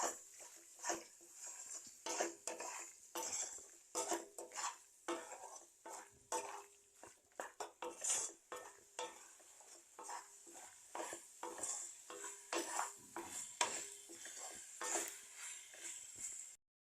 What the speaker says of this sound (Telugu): ఇప్పుడు ఇందులో మ్యాగీ మసాలా వేసుకుందాం. మిక్స్ చేసుకోవాలి.